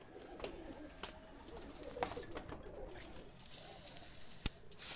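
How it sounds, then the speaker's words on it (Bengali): Two pigeons let loose, giving faint soft coos and light wing or body sounds over a quiet outdoor background. "কবুতর 2টো আমি ছেড়ে দেখাচ্ছি।"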